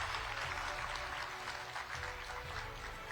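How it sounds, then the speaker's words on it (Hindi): An audience at a conference session gives steady applause for the first guest, a continuous dense clapping texture at moderate level with a low background hum. "जोरदार तालियां हो यहां पर"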